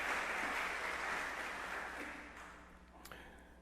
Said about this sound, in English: Can everybody give her an applause?